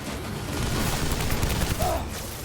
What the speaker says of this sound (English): Rubber bullets!